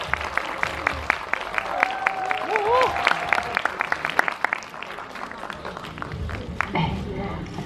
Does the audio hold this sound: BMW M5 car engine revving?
no